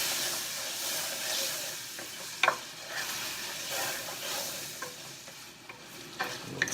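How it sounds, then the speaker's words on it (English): Pinto beans with epis seasoning and salt being stirred in a pot, a soft continuous sizzle and steam hiss broken by a few scraping spoon strokes against the pot. "Go ahead, give it a little stir, because you don't want anything to be sticking."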